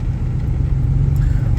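A 1998 GMT400 pickup truck's engine runs at a steady idle, a continuous close low rumble with no pauses, heard alone with no talk over it.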